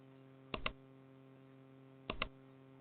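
Computer keys are pressed in two quick double clicks about a second and a half apart, sharp and close, over a faint steady electrical hum and no speech.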